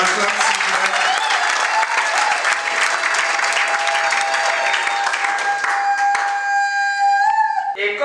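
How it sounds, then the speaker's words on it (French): Applause from guests at a civil wedding ceremony, a sustained clapping burst, fairly loud and close, with voices mixed in and fading toward the end. "On acclame, s'il vous plaît."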